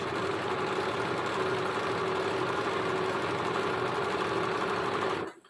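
A sewing machine runs in one steady, fast continuous whir as it stitches a seam with a 1 cm allowance on a child's Uzbek-style garment, loud and close, then stops abruptly near the end.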